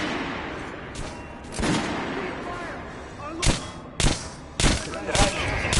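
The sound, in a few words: guns fired at a shooting range in Zombie Army 4 video game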